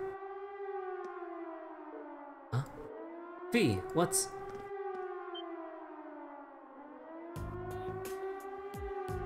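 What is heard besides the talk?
siren from a fort in the video game Trails of Cold Steel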